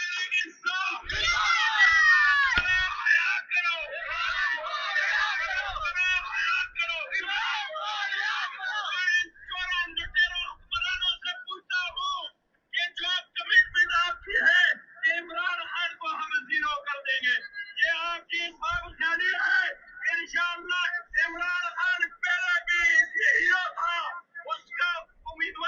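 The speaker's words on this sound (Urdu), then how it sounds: "پی ٹی آئی کارکن عمران خان کی رہائی کے لیے احتجاج کر رہے ہیں اور کہہ رہے ہیں شرم کرو، حیا کرو، عمران خان کو رہا کرو" PTI protesters shouting slogans for Imran Khan's release, many voices yelling and chanting in rhythmic bursts, loud and near, with occasional short pauses between the chants.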